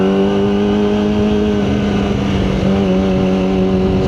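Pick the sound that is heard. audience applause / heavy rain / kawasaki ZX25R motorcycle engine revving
kawasaki ZX25R motorcycle engine revving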